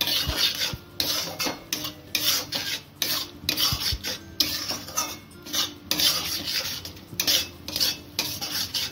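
Sugar, turmeric and salt are worked into a mash of yardlong beans, heard as rhythmic rasping scrapes of a spoon against the pan. Strokes repeat about twice a second, close and dry, with no talking.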